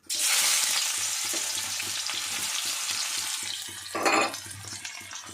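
Onions frying in a small amount of oil while being stirred for paneer saag, a steady close sizzle with a brief louder scrape of the spoon near the end.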